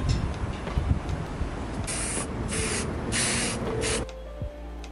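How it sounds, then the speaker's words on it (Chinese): A Yamaha Jog SuperFour 100 scooter's engine hanger, cleaned of oil grime during a restoration, gets spray painted in a series of short, close aerosol hisses with brief pauses, then the spraying stops into near quiet. "接着再喷漆"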